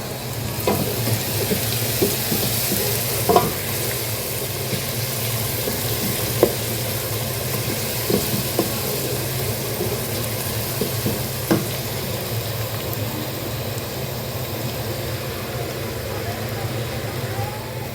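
Golden-brown onions sizzle in a pan with tomato, red chillies, chilli powder, chicken cubes, salt and turmeric, a continuous fry broken by scattered stirring scrapes and clicks, with a voice talking faintly over it.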